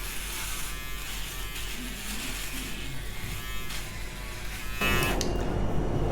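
An electric shaver buzzes steadily against a moustache at close range, a constant motorised hum that grows slightly louder near the end.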